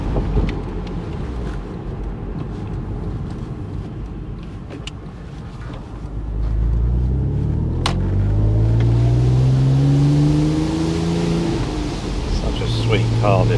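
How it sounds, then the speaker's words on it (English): A Porsche 987 Boxster's engine pulls on the road, a low drone that swells into a louder rising growl as it revs up in the second half, with steady wind rush over it. "The noise of that engine, it's just awesome."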